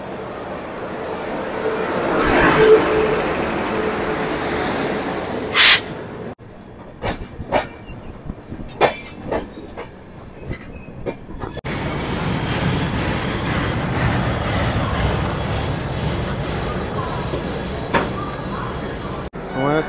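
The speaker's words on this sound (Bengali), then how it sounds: "দশ মিনিট দাঁড়ানোর পর আমাদের ট্রেন ছেড়ে দিল খুর্দা রোড জংশন।" Chennai Mail express train running after pulling out of Khurda Road Junction, a steady rumbling roll with a loud burst of noise early on, then sharp clanks and clicks before the continuous wheel noise resumes.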